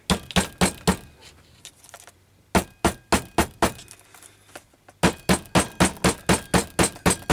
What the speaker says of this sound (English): I think I'll hammer that stitch down so it goes in there a bit better